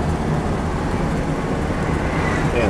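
A 1964 Rambler American 440 hardtop's inline six engine hums steadily with a low, rumbling drone, cruising at even speed, loud and continuous with no voices.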